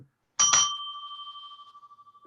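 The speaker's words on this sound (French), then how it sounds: "Et donc, bien sûr, j'ai toujours la cloche." A game host strikes a bell once, giving a bright double-struck ding that rings on and slowly fades with a wavering tone over about two seconds, clear and close with no talking.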